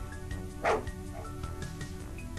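A single sharp dog bark from the horror video game Project H.E.L.L. stands out over a continuous low game ambience, followed by quieter background sounds.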